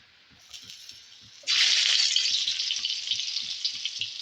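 Chopped onions dropped into hot oil while cooking fish burst into a loud, bright sizzle that starts suddenly and keeps hissing steadily, close up, after a quieter stretch of faint stirring.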